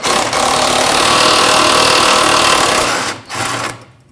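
A 15mm headed bolt on a fuel tank strap of a 2015-2020 GMC Yukon being loosened with a power tool, a steady loud buzzing whir lasting about three seconds, then a short burst after a brief pause.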